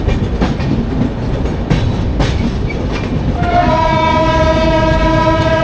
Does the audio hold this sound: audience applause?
no